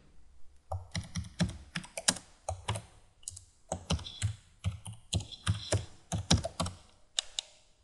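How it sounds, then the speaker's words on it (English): Someone typing a file name on a computer keyboard, with close, crisp key clicks coming in quick irregular bursts and short pauses between them, heard alone. "you just simply type a name in"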